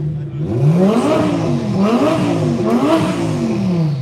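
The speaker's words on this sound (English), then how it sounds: "If you can hear me over the R8s." Audi R8 sports car engine revving repeatedly, three rising and falling throttle blips close by and loud, the engine note climbing and dropping in quick succession.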